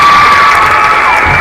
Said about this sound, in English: as this crowd is just erupting now